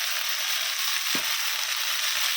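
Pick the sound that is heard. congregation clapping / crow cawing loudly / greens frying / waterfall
greens frying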